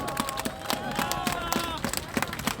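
Crowd at a protest in defence of free media in Opole applauding, with sharp uneven claps over a busy background, while voices murmur and talk.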